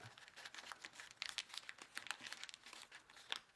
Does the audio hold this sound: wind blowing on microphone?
no